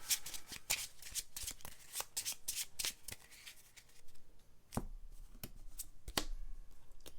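Playing cards from the Legendary Encounters Alien board game are shuffled up close, giving a dense riffling flutter that thins into a few sparse taps and clicks toward the end. No one speaks.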